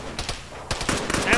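Gunfire from an ArmA game: a few sharp broadband shots with a burst around the middle, over a faint background murmur.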